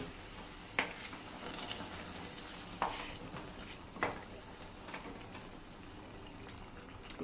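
A spoon stirs soaked, boiled kabuli chana into a chole paneer curry in a pan. A low, continuous scraping is broken by three or four sharp clinks of the spoon against the vessel.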